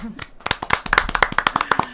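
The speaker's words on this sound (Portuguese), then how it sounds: "Parabéns. Aplausos." An audience claps at the close of a Brazilian podcast episode, with sharp, fairly steady hand claps repeating about twice a second for two seconds, close and moderately loud, with some voice sounds mixed in at the start.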